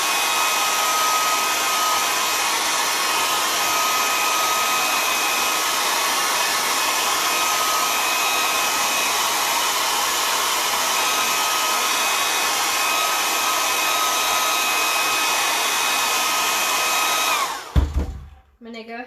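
A hair dryer blows on acrylic paint with a loud, steady whirring hum that runs unbroken for about seventeen seconds before cutting off with a brief clunk.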